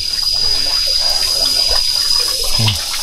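Water pours steadily from a pipe fed from the mountain behind a house deep in a teak forest, a loud, close, continuous rushing with no breaks and no talk.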